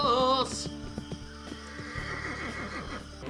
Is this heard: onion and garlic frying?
no